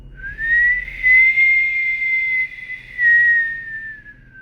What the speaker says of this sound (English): It's like a whining noise